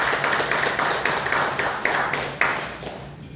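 A church congregation claps in thanks, a dense run of quick, fairly loud hand claps carrying on for a few seconds in an indoor hall before fading out.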